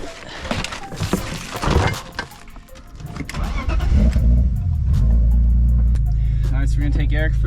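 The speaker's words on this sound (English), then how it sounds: "So we're gonna take Eric for a rip in the old BMW" An old BMW E36 drift car starts up and revs, its engine building into a loud, steady drone near the microphone after several seconds of people talking nearby.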